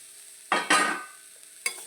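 Spice powder stirred into frying papad kondattam thoran in a pan, giving two close bursts of scraping sizzle followed by a shorter third stir, with no talking.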